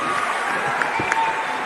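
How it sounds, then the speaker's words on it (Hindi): Audience applause at a live on-stage interview event: a dense, steady patter of many hands clapping at moderate level, blended with a faint crowd murmur, continuous for a brief moment. "एक बार जोरदार तालियां प्लीज।"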